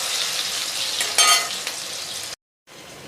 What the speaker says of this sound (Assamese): আলুখিনি ৰঙা হ'লেতো মই এনেকৈ ভাজি থাকিম